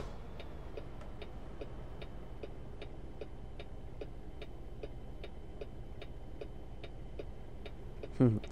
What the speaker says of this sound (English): It's funny, our blinker's kind of in time with the truck in front.